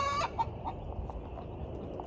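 A hen gives a short burst of clucks at the start, then goes quiet over soft outdoor ambience in a spring garden bed where she had been dust bathing.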